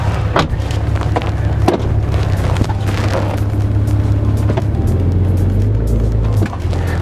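A vehicle hauls a boat trailer up a launch ramp out of the water, a steady low engine drone running close and continuous, with some knocks and rattles over it and a shift in engine note near the end.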